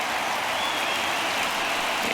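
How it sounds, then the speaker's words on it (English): Virtual baseball crowd in MLB The Show 19 rises and cheers during a Marlins at Rays game, a steady, dense roar of applause and crowd noise at a 3-2 full count, continuous and fairly loud throughout. "this relatively sparse crowd comes to their feet one final time"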